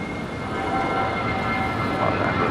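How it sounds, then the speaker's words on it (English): An Air Tahiti Nui Boeing 787-9 Dreamliner departing LAX for Papeete gives off a steady, broad roar, moderately distant and unbroken throughout, with no talk. "This is Air Tahiti Nui Flight 7 departing to Papeete."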